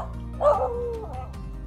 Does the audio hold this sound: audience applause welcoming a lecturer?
no